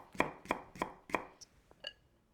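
A knife cuts white radish into julienne strips on a board with four quick, evenly spaced chops, followed by a few lighter taps and clicks, close and fairly quiet.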